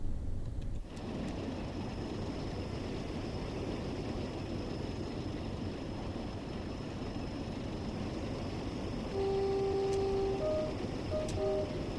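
Freight train rolling along the West Coast Main Line over Shap in Train Sim World 5, a steady rumble of wheels on rails with a brief thump early on and short electronic beeps near the end.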